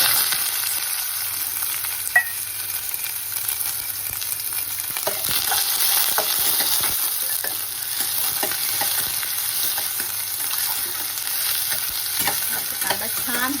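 Sliced onion fries with mustard seeds in a hot pan, a steady bright sizzle with occasional stirring scrapes and small pops, close and continuous.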